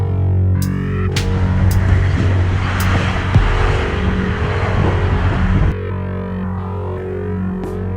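A car engine revs loudly and continuously while the car crosses a rocky road, with broadband rumble and grinding texture before it drops abruptly to a steadier, quieter hum near the end.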